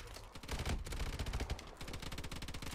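A sentry gun in Call of Duty: Advanced Warfare Exo-Survival, rapid automatic bursts of gunfire rattling for about two seconds, dense and sustained, somewhat distant and fairly quiet.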